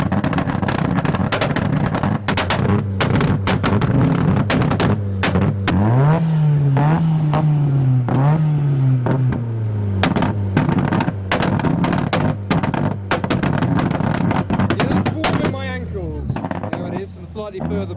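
A loud modified Nissan S14 engine revs and rumbles in rising and falling surges, with sharp backfiring pops scattered throughout and people talking over the noise at a Japanese car meet in the UK.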